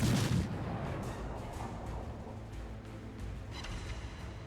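A main gun salvo from the Soviet cruiser Chapayev in the naval video game World of Warships, a heavy booming blast up front that rolls into a long, loud rumbling roar.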